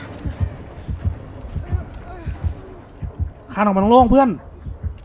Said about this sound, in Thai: ตอนนี้เอาเสียงหัวใจมาอีก